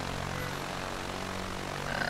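Piper Cherokee in the A2A Accusim flight simulator, its propeller engine droning steadily at idle with a constant low hum and buzz, alone and fairly close.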